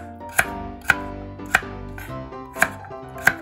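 A kitchen knife chopping vegetables into irregular chunks for a chef's home potato salad, six crisp, evenly spaced knife strikes on a cutting board, close and clear with no talk.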